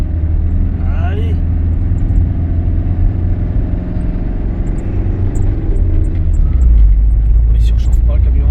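A camper van's engine labours with a heavy low rumble as it climbs a steep hairpin mountain road. It grows deeper and louder toward the end, and voices talk inside the cab.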